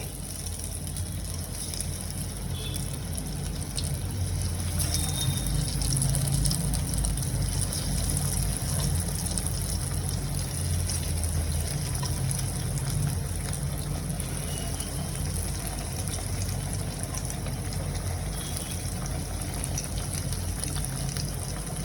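Eggplant slices fry in hot oil in a pan, making a steady, dense, fairly loud hiss and crackle that holds evenly throughout with no voices.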